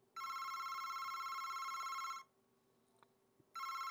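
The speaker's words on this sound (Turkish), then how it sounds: "Telefon çalıyor, telefona gideceğim." A telephone rings inside the haunted-house horror game August Night: a loud, bright electronic ring lasts about two seconds, falls silent briefly, then starts again, with no voices over it.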